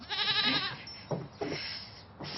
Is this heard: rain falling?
no